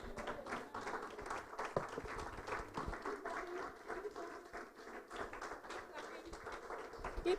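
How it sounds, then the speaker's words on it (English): A church congregation claps and applauds steadily for a man. The clapping is soft and somewhat distant, with a voice talking over it. "Please keep clapping for him."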